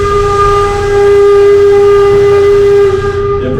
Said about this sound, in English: Now that whistle's going to go off any second